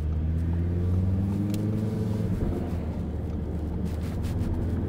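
A car accelerates hard nearby, with a loud engine roar building over a few seconds and wind buffeting the microphone.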